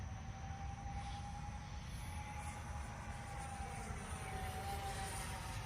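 XFLY Su-27 RC jet at full throttle in flight, a steady, faint whining roar with a sustained tonal drone and no letup, heard from a distance.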